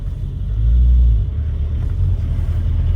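A Renault 5 Turbo rally car's engine rumbles loudly from inside the cabin, swelling to a deeper surge early on as the turbo comes in, then holding a steady drone while driving.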